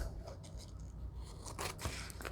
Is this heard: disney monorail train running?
no